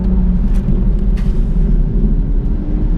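A Stage 1 BMW M140i drives steadily around Bedford Autodrome on a tyre warm-up lap, a loud, continuous low engine and road rumble heard from inside the car without talk.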